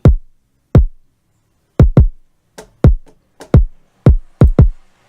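Basic kick drum from a hip-hop beat hitting alone in an irregular pattern, about a dozen punchy, booming hits with short decays and no other instruments.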